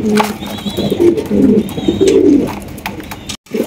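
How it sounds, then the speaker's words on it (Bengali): Black checker fancy show pigeons coo in repeated low, throaty phrases close by, with a few soft rustles and a brief pause near the end. "শোকিং কবুতর, ব্ল্যাক চেকার শোকিং"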